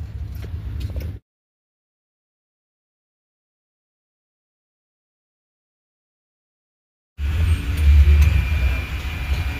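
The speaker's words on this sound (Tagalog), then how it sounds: "Traffic!" Road traffic in the USA, a low rumbling vehicle drone in two stretches separated by a long silent gap, the second part louder and fuller, with no talk.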